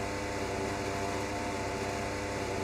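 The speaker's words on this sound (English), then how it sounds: "Apologies for the engine noise, by the way." Steady, loud V8 car engine drone from a racing video game, a constant mechanical hum with no breaks or talk.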